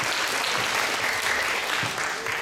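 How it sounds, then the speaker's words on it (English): An audience at a school jazz performance claps steadily and densely, a continuous wash of applause with no talk over it. "How about a wonderful round of applause for Mr. Robert Tucker?"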